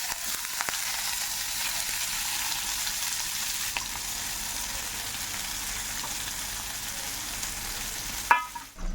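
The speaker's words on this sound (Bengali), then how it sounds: "এই পেঁয়াজগুলোকে আমি এই ডিম ভাজার তেলের মধ্যে ভেজে নেব" Onions fry in hot oil left from frying eggs, with a loud, steady hiss and crackle, ending with a brief metallic clatter.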